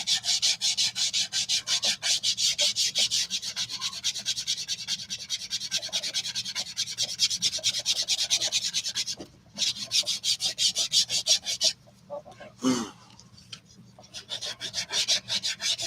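Rapid, rhythmic rasping strokes of sanding leather, close and steady, pausing briefly a couple of times before resuming.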